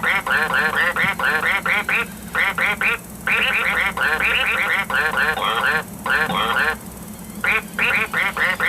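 Animated toy duck quacking in rapid electronic bursts when its foot is squeezed, loud and close, with brief pauses between runs of repeated quacks.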